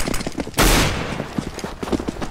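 Gunfire in Counter-Strike: Global Offensive, a loud close shot burst followed by a rapid scatter of smaller shots and clicks, with no talk over it.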